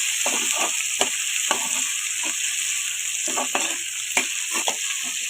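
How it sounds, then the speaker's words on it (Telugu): A spatula stirs finely chopped tomatoes into frying onions in a pan for a fish curry. Steady sizzle runs throughout, broken by repeated sharp scrapes and knocks against the pan at an uneven rhythm, with no talking. "ఉల్లిపాయలు వేగిన తర్వాత టొమాటోస్ అనేవి చిన్నగా ముక్కలు కోసుకొని ఈ విధంగా కలుపుకోవాలి"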